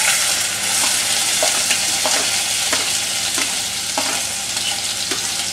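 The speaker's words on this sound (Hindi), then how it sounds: "अब इसे गर्म हो गया है, हमने 1 प्याज डालकर चेक किया, गर्म हो गया है। अब इसमें हम डालेंगे प्याज" Onion fries loudly in hot oil for a spicy Maggi, a dense continuous sizzle broken by regular clicks and scrapes of stirring, with no voices.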